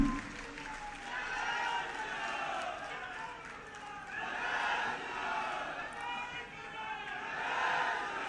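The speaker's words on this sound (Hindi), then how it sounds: "आपसे कहूंगा तालियां बजाकर कीजिए" A crowd applauds at a statue unveiling in Lucknow, the clapping swelling and easing in waves over several seconds while a voice talks over it.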